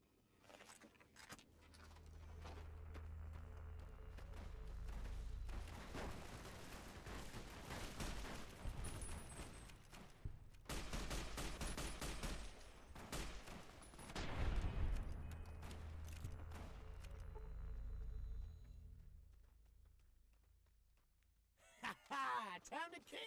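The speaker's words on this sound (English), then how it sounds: "Did you hear that? Fucking gunfire." Gunfire from a raider attack in Fallout New Vegas crackles in bursts with rumbling impacts over several seconds, fairly distant and low, mixed with game ambience.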